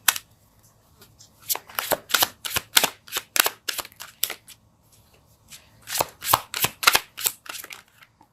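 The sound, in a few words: tarot card being pulled from deck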